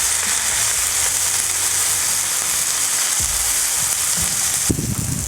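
Sausage patties sizzle steadily on a Blackstone flat-top griddle, a loud continuous frying hiss running throughout, with a sharper clatter of a spatula scraping or stirring near the end.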